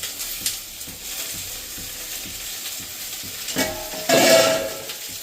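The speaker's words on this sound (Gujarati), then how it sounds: "બધું વેજીટેબલ મિક્સ કરી અને થોડીક વાર આપણે પાકવા દેશું." Cabbage, tomato and potato are stirred and cooked in a pan for mamra ni khichdi, with a soft steady sizzle, repeated spoon scrapes and a louder stirring surge near the end.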